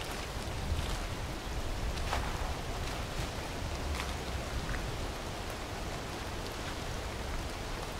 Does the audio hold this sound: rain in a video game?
yes